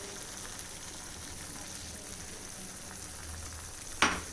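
Chicken changezi gravy with cream simmers in a pot, giving a soft steady bubbling sizzle throughout, with one sharp brief clatter near the end.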